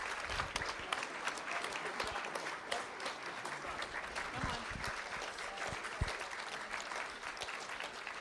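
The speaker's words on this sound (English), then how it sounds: "Let's give them a round of applause." Audience applause at a school district board of trustees meeting, steady clapping from a modest crowd heard at a distance and fairly quietly, continuing evenly for several seconds with some voices underneath.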